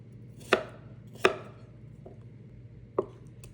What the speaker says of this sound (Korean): 알토란은 먹기 좋은 크기로 썰어줍니다.